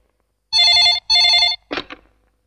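A telephone bell rings twice in loud, even bursts, followed by a short rustle as the receiver is picked up, with no talking in between.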